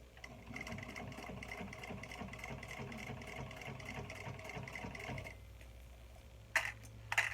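A sewing machine stitches a makeup bag with a steady, fast mechanical rhythm for about five seconds, then stops, followed by a few faint clicks and handling sounds.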